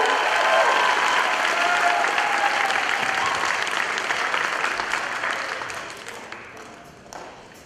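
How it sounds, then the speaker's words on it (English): An audience at a school band night applauds the drummer, a dense crowd of clapping hands that starts loud and full, then gradually thins and fades toward the end with a few scattered claps left. "another round of applause for Mac Dillon on drums"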